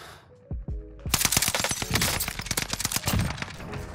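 Rapid automatic fire from an Owen submachine gun in a shooter game, a few single shots and then a dense burst of sharp, loud cracks lasting several seconds.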